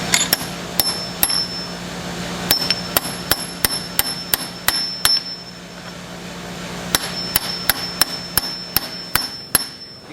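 A pocket bearing is hammered into the input gear of a Cummins truck transfer case, with sharp, ringing metallic strikes in irregular bursts, close and loud, with short pauses between groups of blows.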